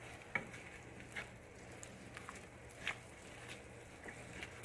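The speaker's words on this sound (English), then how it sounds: "We're just going to stir it around to really coat everything in here." Chicken and steak fajitas sizzle faintly in a pan while being stirred, a soft steady hiss broken by occasional light scrapes and taps of the utensil.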